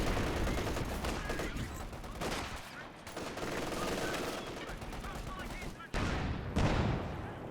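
Quiet, distant machine gun fire and scattered shots across a Company of Heroes 2 battlefield, continuous crackling bursts with brief lulls under faint background noise.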